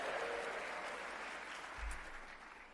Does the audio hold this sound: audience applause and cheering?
yes